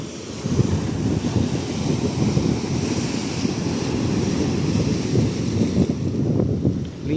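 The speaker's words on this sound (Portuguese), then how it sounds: "Essa maré cheia batendo aqui nas pedras." Rough high-tide surf pounds against rocks on the Icaraí beachfront on a choppy Sunday morning, a steady loud roar of crashing water with some wind buffeting and no talk.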